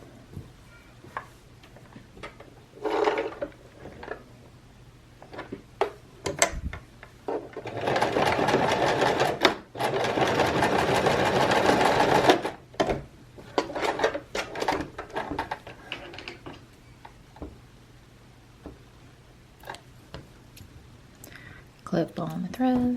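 Sewing machine stitching fabric for a frog bean bag with very small stitches, sounding in a few short bursts and one longer steady run, with handling clicks and a voice talking between the bursts.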